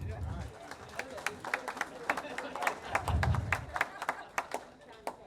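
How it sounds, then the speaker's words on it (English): Scattered audience clapping at a 50th high school class reunion, a loose round of claps rising and thinning out with some murmuring and a voice in the room. "So let's give a round of applause for Frank."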